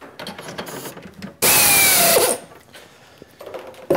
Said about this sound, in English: Next is the pilot drill.